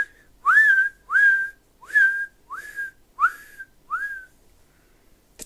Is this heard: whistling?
yes